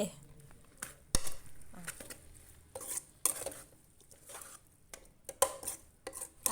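Chicken curry with fermented bamboo shoots is stirred in a pot: intermittent scraping, clinking utensil knocks against the metal and soft wet shuffling, uneven in rhythm and close by.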